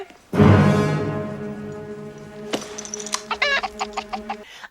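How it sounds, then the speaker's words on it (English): A chicken lets out a loud, drawn-out squawk, then follows with a run of quick, clipped clucks in an uneven rhythm, close and clear with no talking. "What's wrong, McFly? Chicken?"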